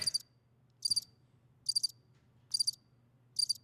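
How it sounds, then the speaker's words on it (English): Crickets chirp in five evenly spaced short bursts, each a quick cluster of high trills, over a faint low hum with no voices. "That was crickets."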